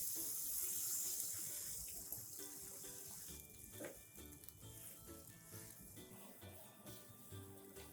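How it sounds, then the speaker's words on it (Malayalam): Water poured into chicken tikka masala in a pan, a soft splashing pour that fades into a gentle sizzle and bubbling, quiet and close. "ഇതിലേക്ക് 3/4 കപ്പ് വെള്ളം ഒഴിക്കാം."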